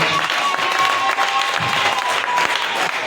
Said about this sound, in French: On acclame pour la lecture.